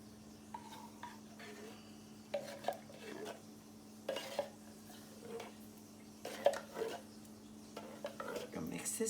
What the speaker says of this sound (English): Gonna mix this up. Mix this all up like this.